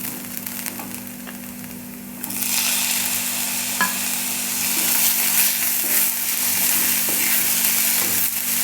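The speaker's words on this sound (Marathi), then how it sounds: "कांदा आपला चांगला फ्राय झालेला आहे. आता आपण यामध्ये टॅमॅटो टाकून घ्यायचा आहे." Chopped tomatoes and fried onions sizzle and are stirred in a hot pan for egg bhurji. A quieter start swells into a loud, steady hiss at about two seconds, with scraping stirs throughout.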